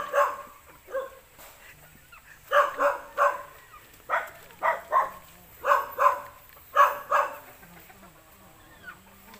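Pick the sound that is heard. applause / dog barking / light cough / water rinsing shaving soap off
dog barking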